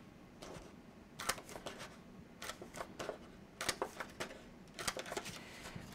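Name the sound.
punching holes in paper with a 3/4 inch hole punch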